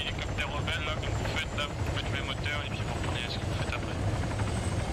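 A rebel helicopter in Arma 3 Altis Life thrums overhead with a loud, continuous rotor chop and engine whine, staying close and steady while muffled voices talk.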